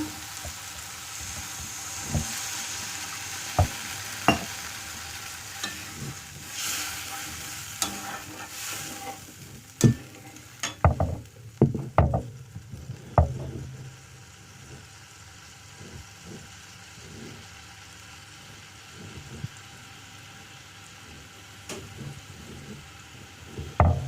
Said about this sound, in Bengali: আরও খানিকটা জল ঢেলে দেবো মাছটা সেদ্ধ হওয়ার জন্য